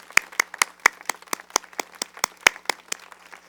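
A small gathering at a wine-and-voices fundraiser claps for its sponsors, a thin spattering of distinct individual claps in loose rhythm, fairly quiet with no talk.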